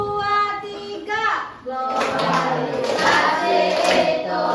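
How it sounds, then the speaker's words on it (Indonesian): Schoolchildren in a primary school classroom sing a song and clap along, with rhythmic hand claps mixed under their voices. "Ayo sambil tepuk tangan ya."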